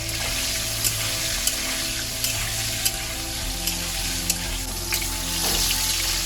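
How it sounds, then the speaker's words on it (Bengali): Pointed gourd (potol) frying in oil with salt and turmeric, a dense continuous hiss and crackle up close, with occasional small ticks and a low hum underneath, no voices. "অল্প করে হলুদ দিয়ে পটলটাকে আগে আমি ভেজে নেব।"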